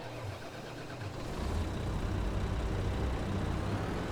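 Valtra 200 horsepower tractor engine in Farming Simulator, a low chunky rumble that swells in loudness after about a second and then holds a steady, throbbing drone.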